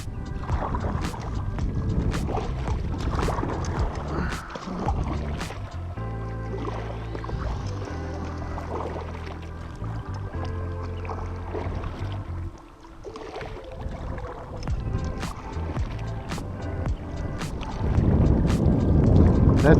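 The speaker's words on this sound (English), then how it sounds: "Boy, this wind." Steady wind gusting across a kayak on Lake Britton, a constant broadband rush with occasional paddle and water knocks, heavier toward the end, with no talking.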